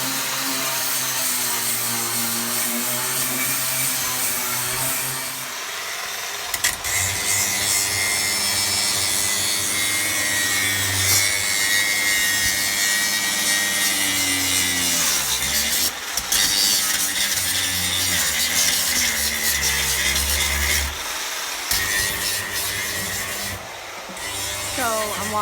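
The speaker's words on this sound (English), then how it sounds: "trying to drill holes in the rivets so we can pull them out" A power drill bores through the metal rivets of a school bus's walls during a skoolie conversion. The loud, continuous grinding whine shifts in pitch and cuts out briefly several times as the bit bites and is pulled back.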